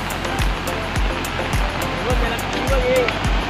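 Swollen river floodwater in Konkan after heavy rain, flowing down from Prachitgad, makes a loud, continuous broadband roar with dull low thumps recurring about every half second, while voices talk over it.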